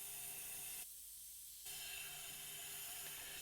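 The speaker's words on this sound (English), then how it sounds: "we're going to start to randomly airbrush cracks into our design." An airbrush sprays paint close up to add crack lines in a granite-effect design. It makes a steady, loud hiss that cuts out for a moment and then starts again.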